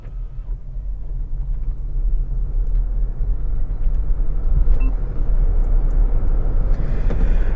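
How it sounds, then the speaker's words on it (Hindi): A 2025 Mahindra XEV 9e electric SUV pulls away at full throttle in race mode, giving a steady, loud low road and motor rumble from inside that builds slightly and holds for several seconds with no talking. "So now let's put it in D, full throttle, let's go."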